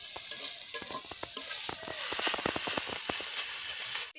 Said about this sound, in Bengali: এবার আমি পেপেটাকে ঘি দিয়ে সুন্দর করে ভেজে নেব